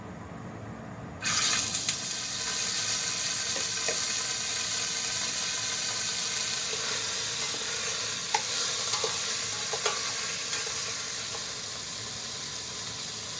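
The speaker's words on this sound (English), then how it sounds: "Once you started to see like smoke coming up, you can sear the meat." Beef searing in a smoking-hot pan for a French beef stew, a loud steady sizzle that bursts in after a moment of quiet and holds, with occasional small pops and spatters and no talking.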